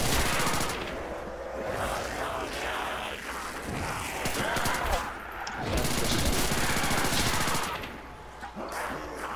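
Automatic turrets firing in Call of Duty: World at War, dense rapid bursts of machine-gun fire with a loud, continuous, fusillade-like texture throughout.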